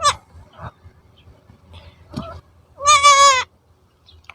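A goat bleats once, loud and close, a long wavering cry after a few quieter scuffles and soft noises, among newborn goats.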